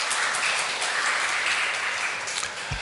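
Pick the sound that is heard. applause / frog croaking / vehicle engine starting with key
applause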